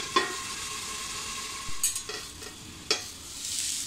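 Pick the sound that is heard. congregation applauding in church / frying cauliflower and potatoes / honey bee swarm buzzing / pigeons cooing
frying cauliflower and potatoes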